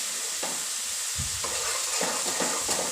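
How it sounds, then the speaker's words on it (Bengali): Soaked mustard paste with sugar being stirred in a hot pan for sarshe potol, a soft sizzle under several scraping spoon strokes that come in quick bursts, close up with no voices. "ভালো করে মিশিয়ে নিচ্ছি চিনিটাকে।"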